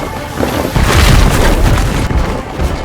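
Bomb explosion in The Witcher 3 Blood and Wine video game, heard as a loud, deep boom swelling and rolling for a couple of seconds before easing off.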